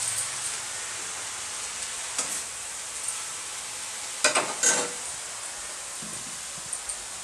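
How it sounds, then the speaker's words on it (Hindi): Stirring and sizzling while dal, rice, greens and tomato chutney cook in a home kitchen: a steady frying hiss with a few clinks and scrapes of a utensil in the pot. "अभी उठ के खाना बना रहे हैं, दाल चावल साग और टमाटर की चटनी।"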